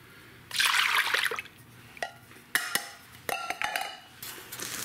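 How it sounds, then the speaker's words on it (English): Evaporated milk from cans pours into a mixing bowl of pumpkin pie mix, with liquid splashing and repeated clinks and clatters of cans and utensils against the bowl. "Two cans of evaporated milk. Pour them into the mixing bowl on top of the pumpkin mix."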